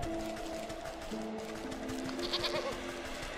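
Goats bleat in the video game Wytchwood, short in-game cries heard over steady game music with a soft rhythmic background, no talking.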